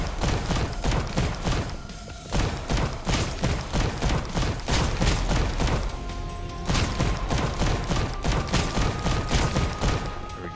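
Rapid automatic gunfire from the video game Holy Shoots fires in dense, continuous bursts with booming low thuds, loud and close, broken by brief pauses between volleys.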